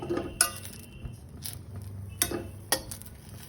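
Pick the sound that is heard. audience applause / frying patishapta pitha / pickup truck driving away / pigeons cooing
frying patishapta pitha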